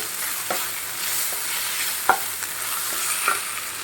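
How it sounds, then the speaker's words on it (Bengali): Spice masala with garlic paste being sautéed in a pan, a steady sizzle with scraping stir strokes of a spatula every second or so, close and continuous with no voices. "এবার কষাবো ভালো করে তো মশলাটা কখনো হয়ে গেছে"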